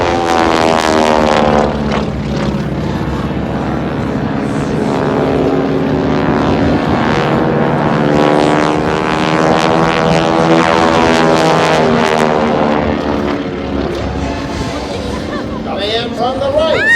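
A propeller aircraft performing an airshow turnaround at Abbotsford, BC drones loudly overhead, its steady harmonic engine tone bending in pitch as it banks and passes, while a voice talks over it.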